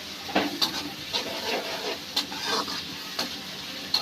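Onions sauté in a hot pan with a continuous sizzle, broken by regular scrapes and light taps as a spoon stirs them close by.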